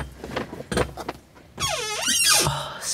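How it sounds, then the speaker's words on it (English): A desk chair squeaks loudly and close up as it shifts, giving one long, wavering, high-pitched creak after some shorter knocks and rustling, with no talking. "oh, squeaky chair."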